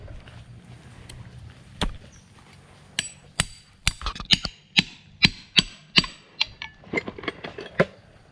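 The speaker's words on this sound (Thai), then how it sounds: "ก็ตอกหน่อยนึงตอกไม่กี่ลูกนะครับ" Sharp hammer strikes drive climbing pegs into a tree trunk to reach a wild beehive, starting sparse and then falling into a steady run of loud, close, evenly paced blows with faint outdoor ambience between them.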